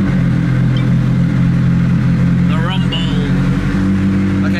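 A supercar engine runs with a steady, loud low drone throughout, while a person talks over it.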